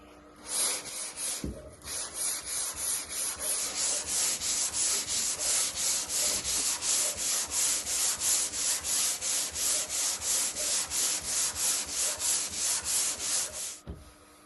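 Hand sanding on a Toyota Glanza car body, a rapid rhythmic back-and-forth scratching of steady strokes, close and clear, pausing briefly near the start and end.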